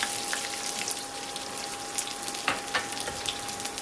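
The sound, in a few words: garlic, mustard seeds and curry leaves frying in hot sesame oil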